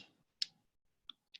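Computer mouse clicks: a few sharp, isolated taps spaced apart in a quiet room, close and faint, with a brief breath or rustle at the start.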